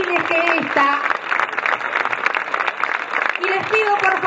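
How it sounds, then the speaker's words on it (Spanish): Crowd applause at an outdoor political rally in Parque Saavedra, sustained clapping with a speaker's voice heard over it near the start and end. "Recibimos sus aplausos como abrazos."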